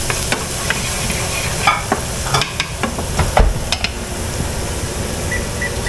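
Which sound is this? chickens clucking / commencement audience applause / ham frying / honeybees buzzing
ham frying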